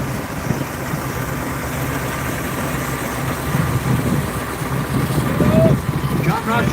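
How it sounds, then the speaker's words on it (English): Savage 6-inch steam engine running in a steam rally parade at Stradbally, a steady low mechanical chugging under a crowd and an announcer's voice, with a brief whistle-like tone near the end. "This one is a Savage engine."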